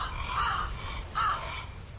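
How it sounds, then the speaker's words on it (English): Two loud, harsh crow caws ring out about a second apart over a low rumbling background in The Last Door video game, where a murder of crows is feeding. "A murder of crows is eagerly eating something."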